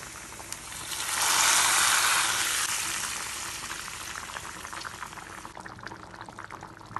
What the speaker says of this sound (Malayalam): ഇനി നമുക്കിത് നമുക്ക് കറിയിലേക്ക് ഒഴിച്ചു കൊടുക്കാം